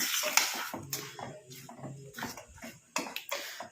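A spoon stirs a mixture in a pot on a stove that has just been switched off, making faint, irregular clinks and soft scrapes against the metal.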